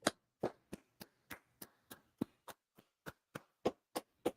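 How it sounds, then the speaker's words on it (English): About thirteen crisp hand claps ring out one after another in a steady, even rhythm, close and clear against silence. "All right, let's clap it up."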